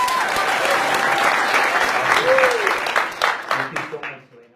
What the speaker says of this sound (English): and now clap.